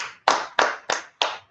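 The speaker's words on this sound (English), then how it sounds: "Let's clap it up." Sharp rhythmic hand claps from a congregation, five strong unison strikes spaced about a third of a second apart, each with a short ringing decay before near silence.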